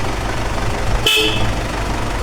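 A 1990 Belarus 82.1 tractor sounds one brief, fairly loud horn beep over a steady idling engine hum.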